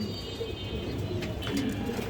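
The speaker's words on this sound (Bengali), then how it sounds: "এটা নীলা কবুতর, নীলি যাকে বলি" A blue Nila pigeon coos softly against a noisy, busy background, low murmuring coos with a few faint higher chirps from other birds.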